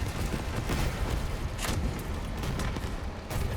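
Gunfire and cannon rounds strike a player's vehicle in the online vehicle-combat game Crossout, a dense, continuous rattle of impacts and blasts with sharper hits standing out, loud and close throughout.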